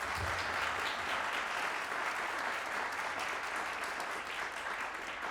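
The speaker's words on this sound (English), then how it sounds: "Please give this panel an amazing round of applause." An audience applauds a panel at a university lecture, with sustained, dense clapping that stays steady and close for the whole stretch.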